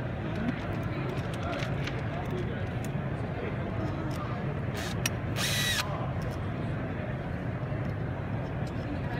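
A cordless drill fitted with a rivet nut setting attachment whirs continuously at a steady pitch, with someone speaking over the motor noise.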